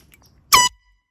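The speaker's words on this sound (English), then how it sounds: "Last but not least, air horn." A single short, loud air horn blast, close and piercing, on a Smoky Mountains trail, with quiet before and after.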